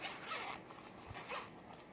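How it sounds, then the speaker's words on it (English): Zipper opening the expandable section of a thread storage case, a soft, close scratchy zipping drawn out over two seconds in a quiet room, with no talk. "it is expandable, so you can actually unzip this part"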